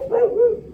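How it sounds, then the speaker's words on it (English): A dog gives two short, close barks in quick succession, the second trailing off slightly, with nothing else heard around them. "Barking dogs."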